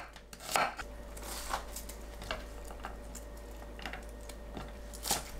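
A knife thinly slices onion on a cutting board, producing a handful of distinct, sparse, crisp taps spaced unevenly and heard close up against a quiet background.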